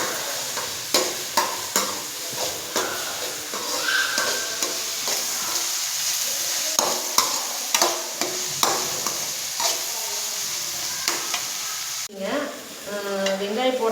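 Tomatoes fry with softened onions in a pan for egg rice, a constant close sizzle broken by repeated sharp ticks and scrapes of a spoon stirring, with a brief voice near the end.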